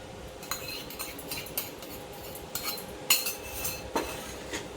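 A metal spoon scrapes and clinks against a pan as semolina and coconut with ghee are stirred and roasted for beetroot ladoo, giving scattered close taps over a faint background hiss.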